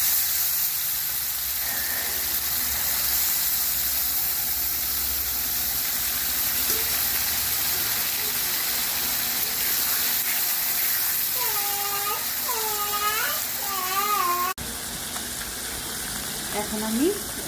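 Small fish sizzle in hot oil with cumin in a pan, a continuous close hiss and crackle that stays steady throughout, with a voice talking briefly over it near the end.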